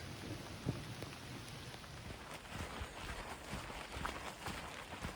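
Rain falling steadily on the Appalachian Trail between Hot Springs, North Carolina and Erwin, Tennessee, a faint continuous hiss with scattered drops pattering on nearby surfaces.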